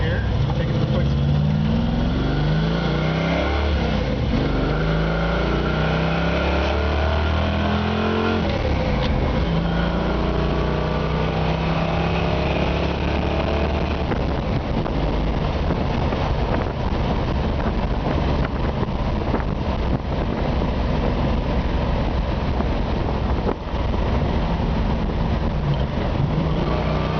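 A 1971 Ford Torino GT engine rumbles steadily while driving, wind buffeting the microphone throughout, with occasional voices underneath.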